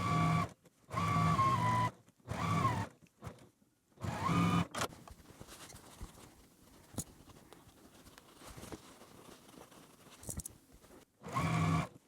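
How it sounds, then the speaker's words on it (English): A home sewing machine stitches quilt block seams in short bursts of whirring, with a steady stretch of quiet mechanical stitching and light handling clicks in between, heard close and alone. "we'll take this to our machine and sew right along here"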